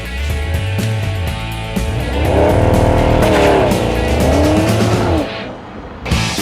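A Porsche 911 sports car drives past with a loud, close engine note that rises and falls through gear changes and revs, with some tire noise, then fades near the end before a brief burst.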